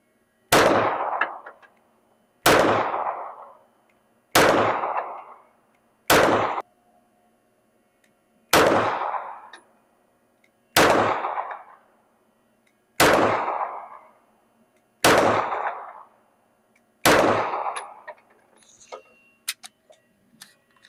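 Nine sharp gunshots from a Smith & Wesson M&P 9 Competitor 9mm pistol, fired outdoors at a steady pace roughly two seconds apart, each loud crack trailing into a short ringing decay.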